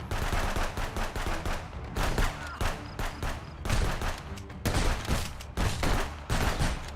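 Bursts of rapid automatic gunfire in the video game Contraband Police, loud and close, coming in dense volleys separated by brief pauses, with almost no talking.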